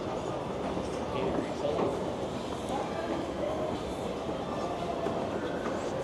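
A GO commuter train rumbles steadily through a busy underground station at rush hour, a dense continuous roar with faint clatter and murmuring voices in the background.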